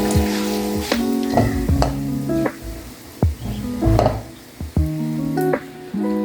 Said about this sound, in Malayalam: ഇതെല്ലാം കൂടെ നല്ലപോലെ അതിൻ്റെ പച്ചമുളക് പോകുന്ന പോലെ ഇളക്കി കൊടുക്കാം.